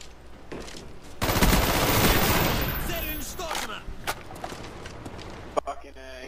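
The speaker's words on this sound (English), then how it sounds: "Oh my god, I can hear your gun." Automatic gunfire in the video game Call of Duty: Black Ops, rapid bursts running from about a second in and fading into scattered shots, with game noise and talk over it.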